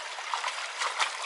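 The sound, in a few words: fresh drinking water trickling from spring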